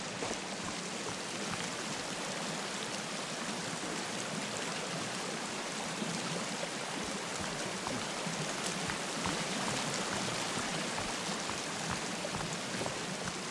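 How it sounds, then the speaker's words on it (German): A waterfall in the survival video game Sons of the Forest pours in a steady, dense rushing hiss that stays constant throughout, with no talking. "Hier ist so eine Art Wasserfall, keine Ahnung."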